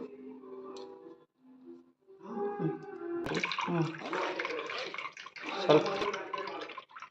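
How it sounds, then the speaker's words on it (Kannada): Water splashes and pours steadily for several seconds into a mixer jar holding jaggery, coconut and ragi flour, following a brief stretch of quiet voices. "ಸ್ವಲ್ಪ ನೀರು ಹಾಕಿ"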